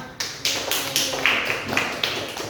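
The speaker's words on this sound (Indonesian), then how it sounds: "Tepuk tangan" Schoolchildren clap in a classroom, a dense, continuous patter of hands with brief surges throughout, close and fairly loud, with no talking over it.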